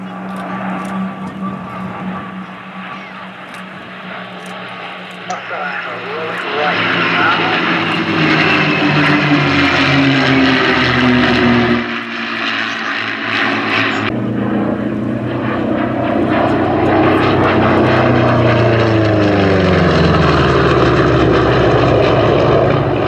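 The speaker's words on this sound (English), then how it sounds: "grunt of that beautiful Pratt & Whitney double wasp engine" Pratt & Whitney Double Wasp piston engines on a warbird at an airshow, a loud steady propeller drone that swells and shifts pitch as the aircraft passes, with speech audible over it.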